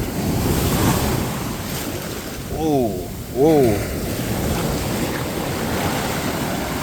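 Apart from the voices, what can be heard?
water test of a Rolex Submariner watch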